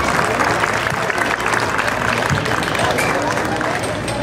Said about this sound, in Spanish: Démosle la bienvenida con un fuerte aplauso